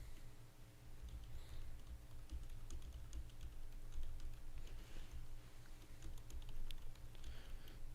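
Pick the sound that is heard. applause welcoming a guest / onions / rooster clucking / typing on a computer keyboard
typing on a computer keyboard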